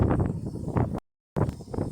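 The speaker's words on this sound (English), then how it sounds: "the wind's taking over, it's brutal weather" Strong wind buffets the microphone in heavy gusty rumbles, cutting out briefly to silence before the roar returns.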